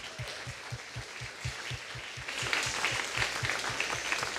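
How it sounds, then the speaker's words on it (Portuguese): A church congregation applauds during a sermon, the broad clapping swelling louder partway through, while a low rhythmic thump pulses steadily underneath. "Você pode aplaudir ao Senhor."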